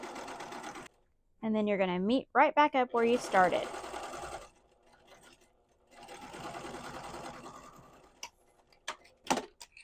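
Home sewing machine stitching a reversible apron, running in two bursts separated by a pause, with someone speaking over the first run and a few light clicks near the end.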